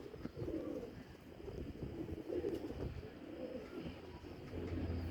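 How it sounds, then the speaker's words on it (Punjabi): Pigeons settling on a rooftop, with soft cooing and fluttering against a steady outdoor background, moderately near and continuous. "ਉਹ ਕਬੂਤਰ ਉੱਤੇ ਦੂਜਾ ਵੀ"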